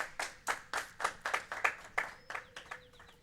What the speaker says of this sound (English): We get another round of applause for Big the Dave.